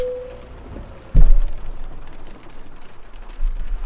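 Steady rain hisses in Euro Truck Simulator 2 with the Volvo truck parked in Lyon, broken by a sudden low thump and rumble partway through, then continuing as a dense, even patter.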